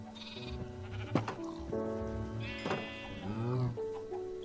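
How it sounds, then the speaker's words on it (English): Sheep bleat several times in the modded Minecraft pack All The Mods 3, with calls overlapping one another at close range against steady background game noise. "I've started giving them food so that they can make me baby sheep"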